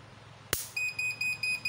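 An appliance buzzer during a short-circuit error test: a sharp snap of the shorted wire, then a rapid series of about five high electronic beeps in quick, even pulses, close and fairly faint.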